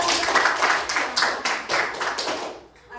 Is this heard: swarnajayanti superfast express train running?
no